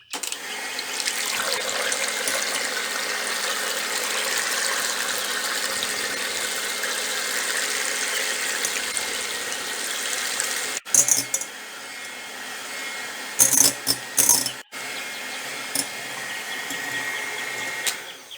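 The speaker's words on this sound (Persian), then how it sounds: "حال با میکسر اینها را میزنیم" An electric mixer beats six raw eggs in a bowl for a Prague cake, a loud, steady whirring drone that cuts out briefly twice near the end.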